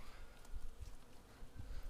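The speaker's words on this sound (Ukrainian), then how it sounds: "абрикоси вже розцвіли бджоли літають" Faint buzzing of bees around blooming apricot trees drifts through an outdoor space, a soft continuous hum with occasional nearer passes and low rumbles of wind.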